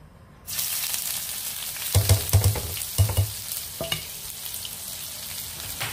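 Chopped onion drops into hot oil left from frying fish and bursts into a sudden, steady sizzle, close by, with a few sharp clatters of stirring partway through.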